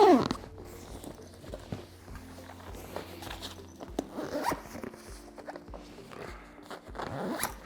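A zipper is pulled along a Silver Cross stroller travel bag with two zippers in a few drawn-out passes, with soft handling noises and faint background rustle.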